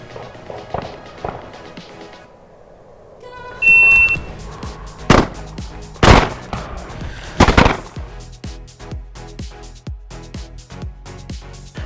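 On a pistol range, a shot timer beeps, then two sharp handgun shots ring out about two seconds apart, followed by further sharp cracks and clicking handling sounds.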